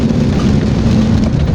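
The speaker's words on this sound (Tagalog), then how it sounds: "Parang nagpapatila ng ulan." Steady heavy rain pours down during a storm at an outdoor bamboo hut eatery, a loud continuous wash of noise with no breaks and no voices.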